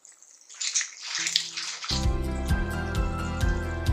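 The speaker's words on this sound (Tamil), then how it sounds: "தண்ணி நல்லா கொதிக்குது." Water boiling vigorously in a cooking pot while mushroom biryani is being made, a steady bubbling hiss and rumble heard alone, rising after a softer start and holding close and fairly loud to the end.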